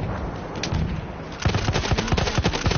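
Rapid gunfire in the video game Battlefield 1, bursts of shots crackling steadily after a brief lull, loud and close with a busy battlefield backdrop.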